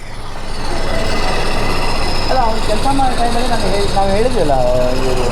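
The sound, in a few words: Hero Splendor motorcycle engine making abnormal noise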